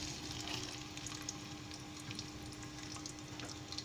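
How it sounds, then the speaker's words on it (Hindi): Sliced onions frying in hot oil for chana dal, a soft continuous sizzle with faint crackles, steady and fairly quiet throughout, with no voices. "ऑयल हमारा गर्म हो चुका है, अब हम इसमें प्याज शामिल कर लेंगे।"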